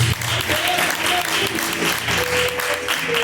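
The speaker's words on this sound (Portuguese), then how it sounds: "Palmas que louvam e agradecem a Deus." A church congregation applauds in praise of God, a dense, continuous wash of clapping with faint voices and tones mixed in beneath.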